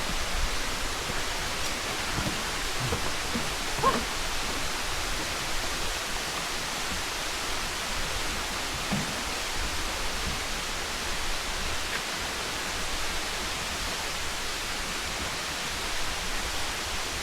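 Hulugan Falls pours in a steady, even roar of falling water, a broad unbroken wash of sound holding constant from start to finish with no voices over it.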